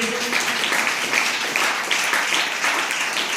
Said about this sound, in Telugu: దైవజనులు నమ్మిన వాళ్ళు చప్పట్లు కొట్టండి